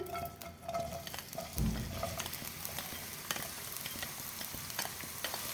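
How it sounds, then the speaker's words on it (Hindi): Sliced onions frying in hot oil for a potato and mutton curry, a steady hissing sizzle with a few clacks of a utensil against the pan and one brief thump, no talk. "सबसे पहले हम प्याज को फ्राई करेंगे। प्याज हम शामिल कर देते हैं।"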